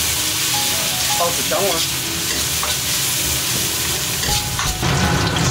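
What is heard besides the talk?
spices stir-fried in a wok over low heat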